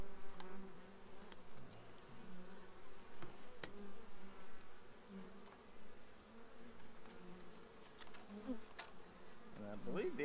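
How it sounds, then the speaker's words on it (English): Honeybees swarming around a beehive entrance while a pollen trap is fitted, a steady close buzzing drone with individual bees flying past, no talking. "I'm trying not to squish a bee."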